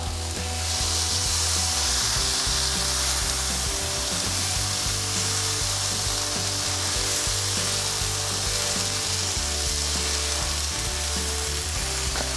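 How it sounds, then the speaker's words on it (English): Cuban beans and rice with thyme sizzling steadily in a hot pan while being stirred, a loud, continuous frying hiss with faint scraping throughout and no talking. "We're gonna stir this for about 3 minutes before adding in our next ingredients."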